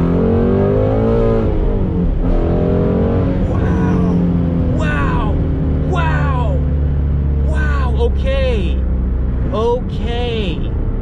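A Ford Mustang GT350 with a flat-plane engine drones loudly from the cabin as it accelerates hard, its pitch climbing and dropping through several rising runs, while someone talks over it.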